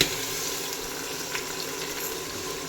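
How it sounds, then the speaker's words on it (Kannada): Onions frying in a pan for mushroom biryani, a steady close sizzle with faint scraping of stirring, no talking. "ಈರುಳ್ಳಿ ಈ ಥರ ಫ್ರೈ ಆಗಬೇಕು."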